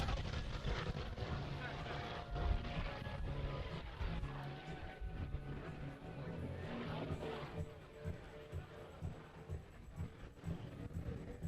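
An aerobatic airplane performs loops and rolls at a car and air show, its propeller engine droning and rising and falling in pitch over an announcer's commentary on loudspeakers.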